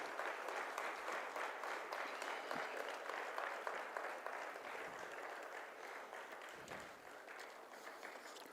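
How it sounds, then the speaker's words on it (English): Steady applause from a large audience at the India Manufacturing Show 2023 inauguration, welcoming the Raksha Mantri and other dignitaries onto the dais, dense clapping sustained throughout at a moderate level. "Let's give a round of applause and welcome the Honorable Raksha Mantri and the other dignitaries onto the dais"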